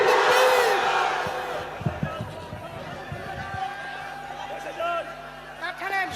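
A crowd at a religious gathering shouts the takbir in loud bursts. The shouts start strong and fade into scattered voices and echoing claps, with talk from the hall running underneath.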